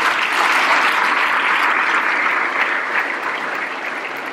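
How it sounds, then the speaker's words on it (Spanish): Loud, sustained applause fills a hall at the inauguration of an international book fair, a thick even wash of many hands clapping that eases off slightly toward the end. "Un fuerte aplauso a ustedes."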